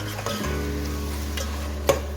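Goat meat frying with ginger and garlic in a pot as it is stirred, a steady low sizzle running throughout with a brief louder scrape near the end; no talking.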